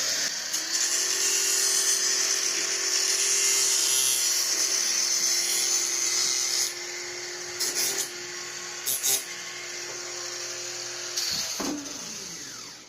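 A high-pitched power tool whines steadily while cutting the last piece of an interior wall, loud and close. It drops lower partway through and gives a few brief bursts before winding down at the end. No one speaks.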